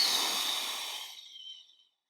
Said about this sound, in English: big inhale, forceful exhale through the mouth as you get tighter